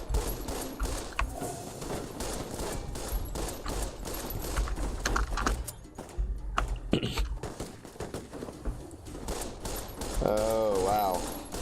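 Weathered 10mm pistol gunfire in the video game Fallout New Vegas: a rapid series of sharp shots in bursts over game ambience, with a brief voice-like tonal sound near the end.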